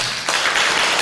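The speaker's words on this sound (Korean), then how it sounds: "참여하신 분들을 위해서 박수 한번 볼까요?" A congregation applauding at a church gathering: a dense, loud wash of many hands clapping at once, continuous throughout the brief moment.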